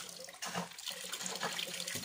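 Water running through an underfloor heating loop after its valve is opened, a steady, broad rushing flow with slight surges, continuous and fairly close.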